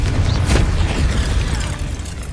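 A Confringo spell explodes in Hogwarts Legacy as a heavy booming burst with a deep rumble that swells and then slowly rolls off, loud and alone.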